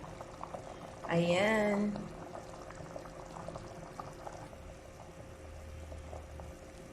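Water pours for about a second into a pot of boiling oxtail stew, a short gushing splash over a steady low simmer, with a brief spoken word just after.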